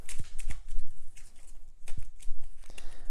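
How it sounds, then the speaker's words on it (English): Threat cards from the Deep Space D-6 board game (second edition) being shuffled by hand, a series of soft papery riffles and taps in uneven bursts, close up with no talking. "So we will give it one last shuffle."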